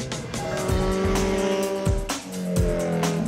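Fast motorcycles scream past on a racetrack at a superbike school, loud high-revving engines rising and falling with shifting pitch as several bikes go by in quick succession.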